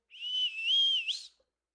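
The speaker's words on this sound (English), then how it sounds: "And you hear a whistle" A single clear, high whistle, held and wavering slightly in pitch for about a second before rising to a brief upward flourish and stopping, alone with no talk.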